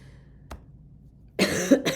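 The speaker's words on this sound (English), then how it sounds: "You're going to have that cough." A single sharp cough rings out close up after a brief quiet moment with a small click.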